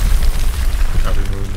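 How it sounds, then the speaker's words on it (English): Grenade blast in the World War II shooter Hell Let Loose, a deep rumbling boom that fills the short moment, loud and close, with a voice talking over it. "They throw in fucking grenades at me, won't they?"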